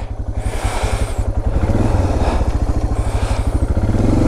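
KTM 390 Adventure motorcycle ploughing through deep lake water, its single-cylinder engine thumping in a fast, steady, loud pulse up close, with water clatter over it.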